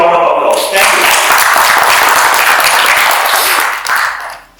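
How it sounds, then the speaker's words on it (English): Conference audience applauding in a dense, steady burst of clapping that starts after a brief moment of talk, holds loud and even, then tapers off quickly at the end. "You deserve a big round of applause."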